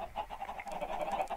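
Chickens in Minecraft cluck in a rapid, steady string of short clucks, soft and fairly faint, with no talking over them.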